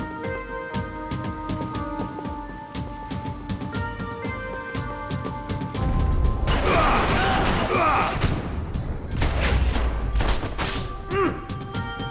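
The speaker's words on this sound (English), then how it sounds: "Grenade" A grenade detonates in the 2012 video game Max Payne 3: one loud, close blast about halfway through with crackling, rumbling debris trailing off, set against steady tonal game music and scattered sharp gunfire-like hits.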